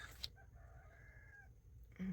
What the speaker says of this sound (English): on my videos you'll hear roosters in the background quite a bit